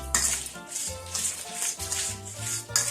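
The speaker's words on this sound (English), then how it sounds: "I'm going to give that a little mix." Raw shrimp being tossed with salt in a bowl, a utensil scraping and clinking steadily against the bowl in close, continuous strokes with no talking.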